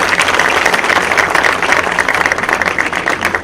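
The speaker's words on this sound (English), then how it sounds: "Give him a big round of applause to Professor Kidwai." A large audience at a university celebration in Aligarh gives a dense, continuous round of applause for a professor, a steady wash of many hands clapping at once, loud and close, with no break.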